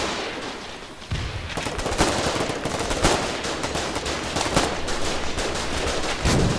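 Heavy machine gun fire in the war game Foxhole: sustained bursts of rapid automatic shots with sharp cracks, loud and continuous over a rumbling battlefield background.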